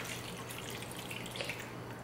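A steady stream of water pours and splashes into a skillet, a continuous bright trickling hiss heard up close with no voices.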